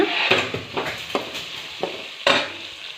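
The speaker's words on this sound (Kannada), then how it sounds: "ಇದನ್ನ ಇವಾಗ ಸ್ವಲ್ಪ ಚೆನ್ನಾಗಿ ಫ್ರೈ ಮಾಡ್ಕೊಳ್ಳೋಣ" Gobi manchurian with chili powder stirred and fried in a pan, a soft sizzle broken by several sharp scrapes and clinks of the spoon against the metal, close by and irregular.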